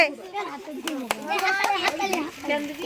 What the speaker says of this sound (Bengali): হাততালি দে হাততালি দে হাততালিটা জোরে দিতে হবে